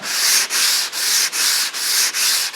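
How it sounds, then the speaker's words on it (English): Light sanding strokes on car body filler on a junkyard Cadillac rasp back and forth in a steady rhythm, about six even passes, close and fairly loud with no talking. "I'm not pushing hard, I'm just sanding light."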